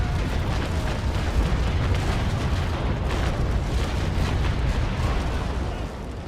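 Ship cannons firing in the Naval Action naval battle game, a Trincomalee against a Belle Poule, as a dense, continuous rumbling roar of overlapping broadside booms, loud and sustained throughout with no clear gaps.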